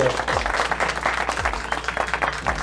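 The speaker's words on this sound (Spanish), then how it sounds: "Lo vamos a recibir con un fuerte aplauso" Audience applause welcoming a guest onto a school podcast at Liceo Cristiano de Guayaquil: steady, dense clapping from a crowd that keeps up at an even level throughout.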